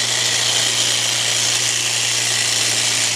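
A Milwaukee M18 Fuel cordless hedge trimmer attachment runs at full speed, a steady, loud, high buzzing motor whine held unbroken and close throughout.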